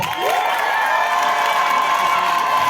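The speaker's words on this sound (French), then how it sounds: "Et applaudissez-vous." A crowd at a gathering in Yopougon applauds and cheers loudly, clapping mixed with shouts, whoops and high excited voices rising together over a couple of seconds.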